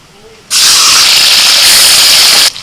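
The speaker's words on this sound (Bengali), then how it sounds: "প্রথমে মাছ ভেজে নেব" Tilapia pieces hit hot oil in a pan with a sudden loud, hissing spray of sizzling that holds steady for about two seconds and then cuts off.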